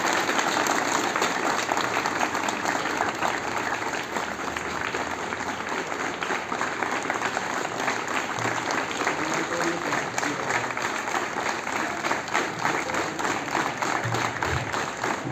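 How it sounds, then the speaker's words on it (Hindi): Sustained audience applause at an honouring ceremony for a professor during a scouting anniversary event, a dense continuous wash of many hands clapping throughout, loud and even with no pauses. "आपकी तालियां कमी नहीं रहनी चाहिए।"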